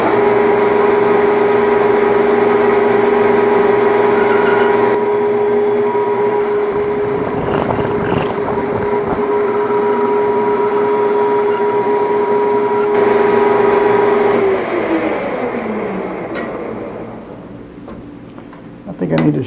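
A dull lathe cutoff tool parting metal reamer stock gives a loud, sustained squealing whine with grinding chatter that fades out near the end, while a voice speaks over it.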